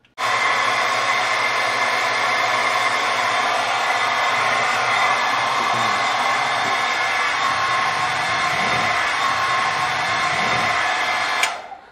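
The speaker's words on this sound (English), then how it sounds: "Now I'm going to turn on the hairdryer." Hair dryer powered through a solar inverter runs loud and close with a steady whining blower roar for about ten seconds, then cuts off abruptly when the DC breaker trips.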